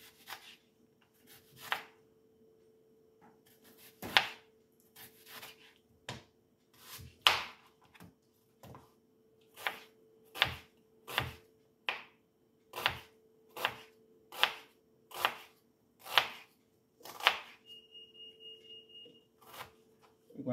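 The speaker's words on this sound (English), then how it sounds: "start cut up the onions" A knife chops onions on a cutting board for saltfish preparation, a steady run of sharp, close thuds repeating about once a second, with a faint electrical hum underneath.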